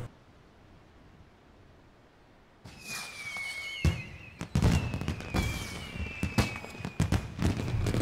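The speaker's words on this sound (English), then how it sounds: "Fireworks still look really cool, don't they?" Fireworks in a Final Fantasy XIV cutscene whistle upward and burst after a quiet lead-in, a rapid sequence of loud crackling pops and booms layered with whistling trails, with no talk.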